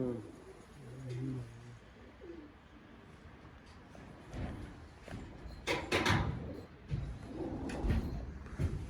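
Pigeons coo softly at a pigeon coffee house in Gaziantep, low repeated calls near the start, followed by shuffling, flapping and clattering sounds in the busy room.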